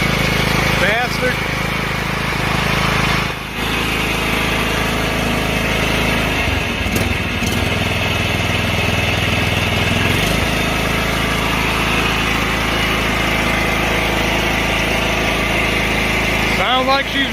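A John Deere L108 lawn tractor engine runs steadily at close range after a stuck throttle was freed, a loud continuous drone with a brief dip and a speed change midway.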